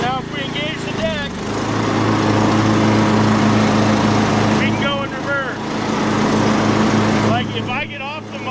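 A Cub Cadet XT1 riding mower idles with a steady low engine drone, then its mower deck engages and the running note deepens and strengthens, while someone talks over it in short bursts.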